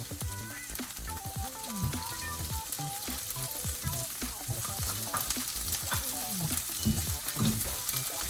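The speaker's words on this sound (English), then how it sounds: "Now the tomatoes go in." Tomatoes frying in a pan for a spicy salmon curry, with a steady, close sizzle broken by repeated scraping stir strokes throughout.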